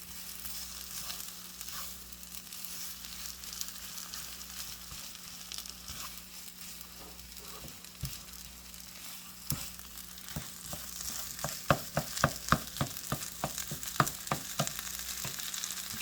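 Potatoes sizzle steadily in a hot pan at home while a utensil stirs them, with scraping and tapping strokes growing more frequent and pronounced toward the end, close and moderately quiet without speech.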